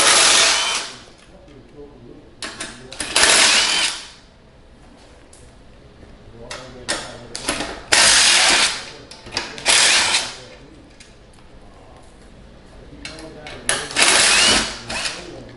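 Power tool driving out four 13mm seat bolts on a Jazzy Elite power wheelchair, several close whirring bursts of a few seconds each with quieter gaps between.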